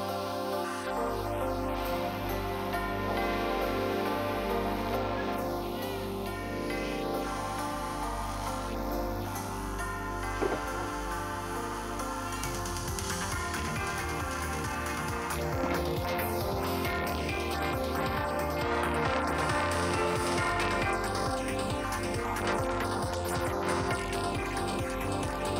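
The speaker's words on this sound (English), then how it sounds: "We need to make sure we listen to this music disc right away." A Minecraft 1.21 music disc plays in a jukebox, a continuous soft, layered melody with bell-like tones, steady and unbroken for the whole stretch, with no talking over it.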